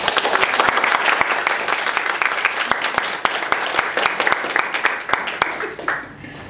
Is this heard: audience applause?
yes